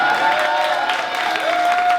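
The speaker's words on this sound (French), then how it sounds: "Est-ce qu'on peut applaudir très bien, très fort Kram pour sa pratique du son?" An audience at a live show applauds with a dense, steady wash of clapping and crowd noise, while a faint tone runs underneath.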